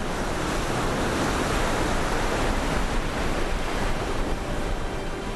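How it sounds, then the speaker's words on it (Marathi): Big sea waves crash on the Dadar shore in Mumbai during heavy monsoon rain and a high-tide warning, producing a loud, continuous roar of surf mixed with wind buffeting the microphone. "दादर समुद्र किनाऱ्यावर मोठ्या लाटा उसळलेल्या पाहायला मिळाल्या"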